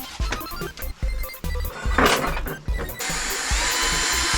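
Power drill boring into steel while making a dart gun, motor revving in short repeated bursts with pauses, then a sustained whine at the end.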